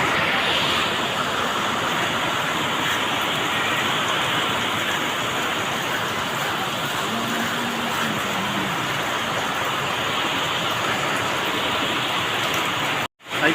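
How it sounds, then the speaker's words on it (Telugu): Heavy rain pours down in a dense, unbroken roar that holds loud and steady throughout, ending in a brief dropout. "కానీ వర్షం చాలా ఎక్కువ అయిపోయింది"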